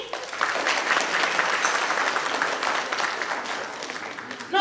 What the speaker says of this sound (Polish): Proszę o klaski.